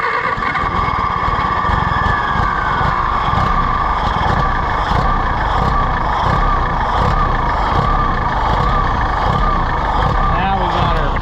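An Allis-Chalmers WD tractor engine runs steadily and loudly throughout, a continuous rough mechanical drone with no break in level.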